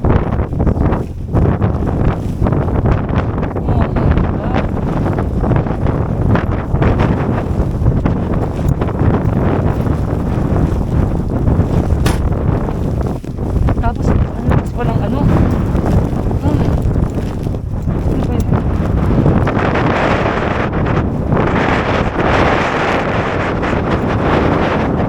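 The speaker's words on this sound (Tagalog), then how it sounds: "kasi malakas talaga yung hangin" Strong wind buffets the microphone continuously in snowy rural Alaska, a loud rumbling roar that persists throughout.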